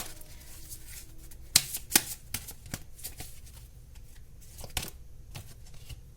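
Tarot cards are shuffled and drawn by hand close up. Soft riffling and flicking come with a few crisp snaps near the start, quiet throughout, and nobody talks.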